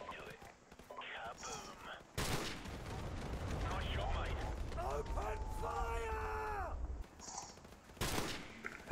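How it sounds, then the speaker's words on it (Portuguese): Unsilenced M21 sniper rifle gunfire in Call of Duty Modern Warfare Remastered, sharp loud shots cracking out at intervals amid game effects and ringing mechanical sounds, with a voice talking across much of it. "a gente já vai conseguir usar a Sniper, a M21. Ela não tem silenciador. Então é só matar alguns inimigos"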